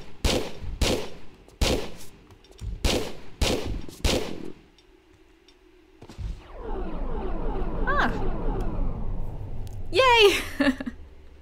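Gunfire against the final boss in the Meteorite Cavern of Tomb Raider 3: about eight sharp, evenly spaced shots open the clip, followed by a brief lull and then a swelling rumble with rising electronic tones, all under a voice.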